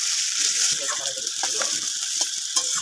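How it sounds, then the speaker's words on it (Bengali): Chopped onions fry in a pan with a steady, close hiss and sizzle, broken by occasional crackles and the scrape of stirring. "দিয়ে দেব পেঁয়াজ কুচি। এখানে আমি 2টো পেঁয়াজ নিয়েছি। পেঁয়াজটা একটু ভেজে"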